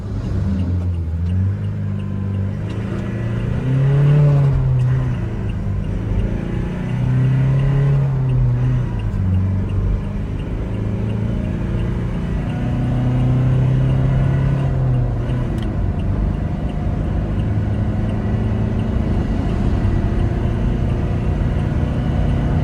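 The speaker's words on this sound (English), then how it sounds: "let's get to my favorite part, 0 to 100 acceleration" A Toyota Innova Crysta 2.4 with the AC off and power mode on accelerates hard from a standstill toward 100, its engine droning loud and close, pitch climbing through several gears with brief dips at each shift.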